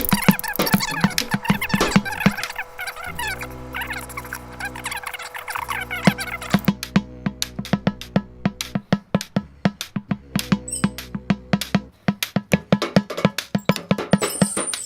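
Wooden castanets click in quick uneven bursts, sharp dry taps close up, with a squeaky tonal melody playing underneath for the first half.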